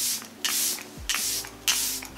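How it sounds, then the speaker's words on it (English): Charlotte Tilbury Airbrush Flawless Setting Spray misted in three quick hissing bursts, close and soft, with a faint low hum beneath. "This is the Charlotte Tilbury Airbrush Flawless Setting Spray."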